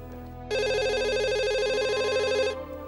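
A telephone rings in an office, one continuous electronic trill lasting about two seconds, loud and close, with no talking over it.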